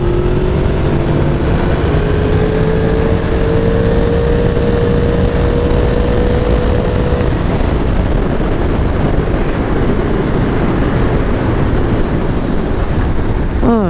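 A Yamaha MT10 SP motorcycle engine roars loud and close while riding, a dense, steady growl with rising and falling revs under heavy wind rush, and no talking.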